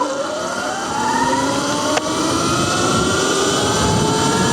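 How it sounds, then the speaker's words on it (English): Surron electric dirt bike on a top speed run, a rising motor whine climbing steadily in pitch under heavy rushing wind noise, close and continuous. "We're gonna see what the GPS top speed of the Surron is"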